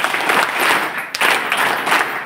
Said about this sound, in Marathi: माननीय दत्तात्रय साळुंके सर यांचं देखील आपण 3 टाळ्या वाजवून स्वागत करणार आहोत